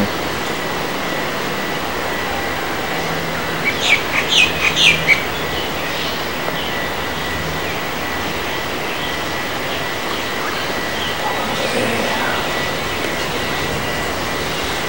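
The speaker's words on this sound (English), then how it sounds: "White-tailed black cockatoos." White-tailed black cockatoos give a brief burst of several high, distant calls. A fainter call follows later, all over a steady outdoor background rumble.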